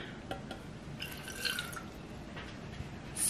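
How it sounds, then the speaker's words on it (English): Water trickles and drips into a paint mixing cup holding blue and white paint, a soft, faint, close pouring with small splashes and no talking. "Now we're gonna add our water."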